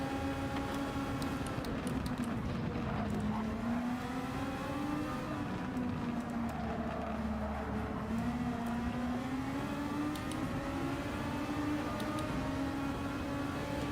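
A Formula 1 car's engine screams loud and steady in a Gran Turismo 7 race, pitch rising and falling through gear changes as it makes an overtake, with no talk over it.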